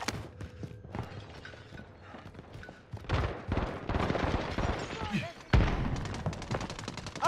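Rapid bursts of gunfire and explosive booms in Call of Duty: Modern Warfare, loud and close, with irregular volleys over a busy combat backdrop.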